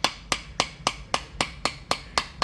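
Sharp, evenly spaced hammer blows drive a Helle Folkekniven knife through a 2x4 wooden board, about nine loud close strikes in steady rhythm, each ringing briefly before the next.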